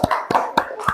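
Students in a classroom applauding for the first group, with several short bursts of hand claps and taps in an uneven rhythm, near and fairly loud, with no talk.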